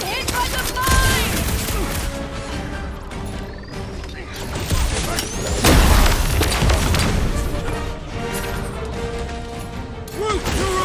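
A mine blows up in the Guardians of the Galaxy video game amid heavy combat, with loud booms and crashes, bursts of rapid gunfire and clanking effects, and voices talking over the chaos.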